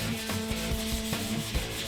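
Thin, fine-grit sandpaper rubs back and forth over antler in close, steady scratchy strokes, with a soft rhythmic rasp and no speech.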